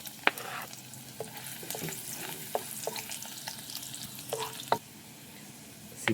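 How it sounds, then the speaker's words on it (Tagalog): Garlic sautéing in hot oil in a pan for a mixed vegetable stir fry, a soft steady sizzle broken by several sharp spatula scrapes and taps against the pan, with no voices. "Ayan, atin lang gigisahin yung bawang."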